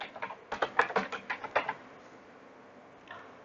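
Typing on a computer keyboard while entering a password, about a dozen quick close key clicks in an uneven burst, then quiet with one faint final tap.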